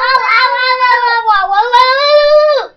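A young child gives a long, drawn-out wavering cry imitating a dog, one sustained sound that is close and loud.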